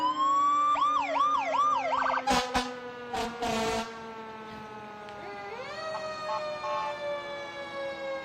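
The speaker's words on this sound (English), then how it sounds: "we can be heard over their sirens" Several loud wailing fire truck sirens overlap, rising and falling in pitch, with an air-horn style blast in the middle; no voices. Outdoor Halloween parade.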